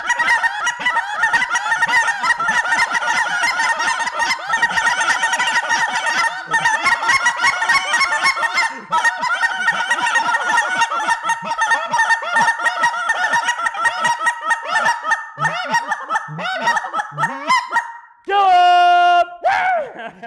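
A goose call imitates lesser geese in a field hunt, a loud, steady run of rapid clucks and double clucks with moaning notes, ending in a short high honking burst.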